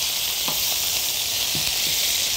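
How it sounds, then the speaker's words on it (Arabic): Lamb ribs frying in a pan as the second side browns: a loud, continuous close sizzle with a few faint clinks or scrapes over it and no talking. "نحمر الوش الثاني"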